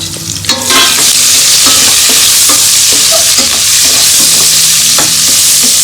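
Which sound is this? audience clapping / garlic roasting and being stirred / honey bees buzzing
garlic roasting and being stirred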